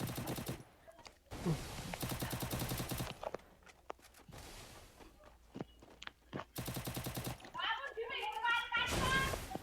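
Gunfire in the Free Fire video game: loud bursts of rapid automatic fire come in several separate volleys, with single shots and footsteps between them, under a voice shouting excitedly.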